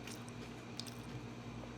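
Soft, squishy close-up chewing of a fried banana roll (turon) that has lost its crunch, faint wet mouth sounds with a brief bite in the middle.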